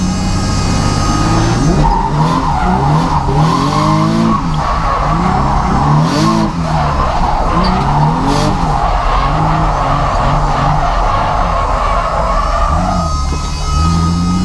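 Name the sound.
twin turbo Nissan 350Z drifting, tires skidding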